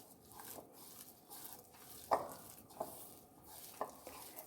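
Potato poori ingredients being mixed by hand with salt: soft, quiet squishing and stirring, broken by a few sharp clicks and taps against the bowl.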